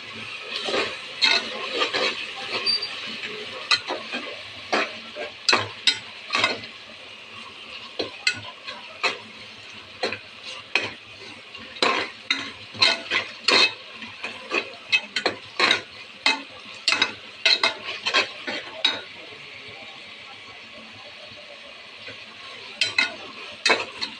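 An onion, tomato, mint and coriander masala with chili powder for tomato biryani, sautéed in a pan: a steady soft sizzle broken by frequent sharp scraping and tapping stirs, close and clear with no talking.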